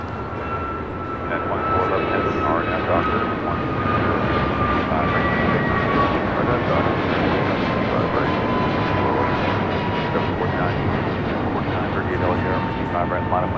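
An airliner takes off from the south side of LAX, its engines building into a loud, sustained roar that holds steady at a moderate distance, with a voice talking over it.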